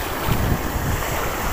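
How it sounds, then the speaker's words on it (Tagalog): Strong sea waves churn steadily around deep water near Mag-asawang Bato, a continuous close wash of surf mixed with gusty wind buffeting the microphone. "Lakas na ng alon no."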